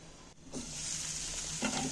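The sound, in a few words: vegetables frying in a little oil in a covered pan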